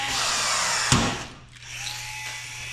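Power drill struggling to bore out parts during a car rebuild, a loud sustained high whine with a sharp bite near the start, then easing and dipping before resuming more faintly, with no talk over it.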